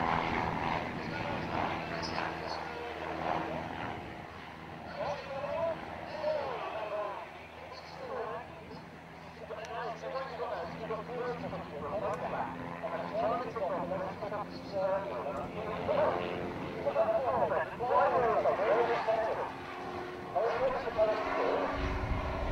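A display aircraft flies down the runway and pulls up while wiggling its wings at the 2013 Old Buckenham Airshow. Its engine drones at a moderate distance, rising and falling under continuous commentary from a man.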